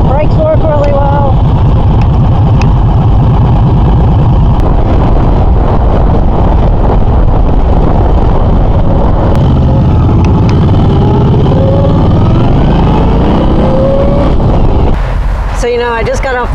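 Motorcycle engine sounding steadily throughout a test ride, loud and continuous with heavy wind rush over the microphone, then a brief change near the end.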